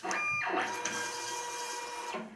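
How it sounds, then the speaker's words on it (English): A PC23D desktop printer prints a patient wristband in a short, faint mechanical burst, a steady whirring feed with a couple of clicks at the start and end, heard alone. "the PC23D's class-leading output speed ensures that the point-of-care staff spends less time printing wristbands"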